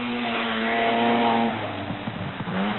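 A car on a 1983 NSW Rally Championship stage is driven hard, its engine revving loudly and steadily before dropping in pitch as it changes gear, with some rough surface noise underneath.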